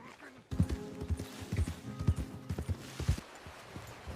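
Horses clip-clopping in a video game, a steady run of hoof thuds on hard ground at walking pace, fairly close, with faint game background ambience and no speech.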